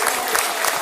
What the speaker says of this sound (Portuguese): dando uma linda salva de palmas para Jesus